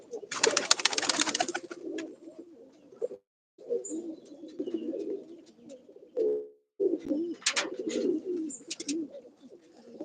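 Domestic pigeons coo in low, throaty phrases nearby, broken by brief pauses and rustling wing flutters, with no talk over them.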